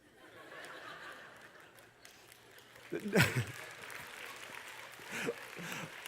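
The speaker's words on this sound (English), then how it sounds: "All I see is women clapping" Women in a church audience clap during a sermon, a faint, scattered applause beneath laughter and chuckling, with voices surfacing midway through.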